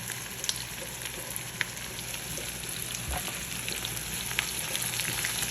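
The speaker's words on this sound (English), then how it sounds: "I'm going to add my onions. And peppers, and also my garlic." Onions, peppers and garlic sizzle quietly in a pan, a steady soft crackle with scattered small pops.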